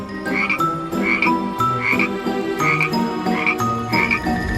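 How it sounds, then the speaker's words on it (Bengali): A pot full of frogs croaks loudly and close by, in repeated rhythmic bursts of rasping calls roughly every second, layered with fainter chirps in the background and no voices. "পরদিন সকালে ডাইনি এক হাঁড়ি ব্যাঙ ধরে আনে।"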